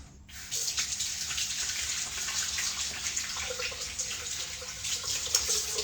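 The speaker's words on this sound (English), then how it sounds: "Then we wash our hands." Water runs steadily from a sink tap while hands are washed, a continuous close splashing hiss that starts abruptly and carries on without talk.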